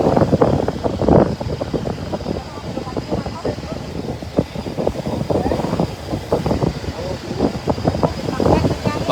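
Strong wind buffeting a cellphone microphone outdoors at a retrieval operation in Brgy. Tambak, New Washington, a loud constant rumbling roar with gusty surges, while a person talks over it throughout.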